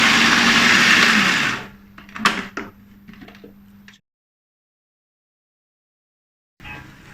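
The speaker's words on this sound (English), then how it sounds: "we blend the red chili, the dry chili, and the dry shrimps together" A kitchen blender grinds red chili, dry chili and dried shrimps with a little oil, a loud steady whir that winds down and stops, followed by a few clicks and a pause.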